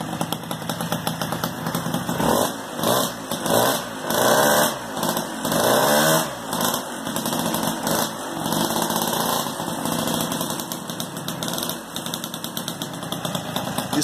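Scooter engine running, a buzzy, uneven putter that rises and falls in revving surges before settling into a rough idle, loud and close with no voices.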